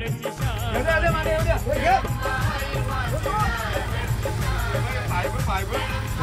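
Dense crowd of devotees at the Kelambadevi Navratri festival, gathered in the rain, with a steady murmur of many voices and shouts filling the space throughout.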